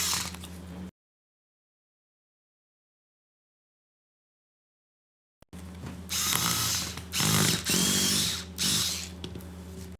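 A power screwdriver whirs in short, loud bursts as it drives screws to fasten the brackets inside a Dell 3100 laptop during a palmrest repair, with a long silent pause between the first brief run and the later ones.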